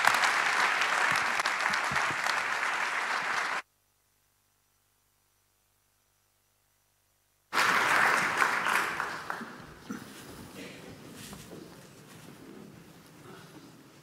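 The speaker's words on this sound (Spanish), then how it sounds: "Un fuerte aplauso, por favor." An audience at a 45th-anniversary event applauds loudly, the clapping cutting to silence for several seconds, then returning strongly before thinning out to scattered claps.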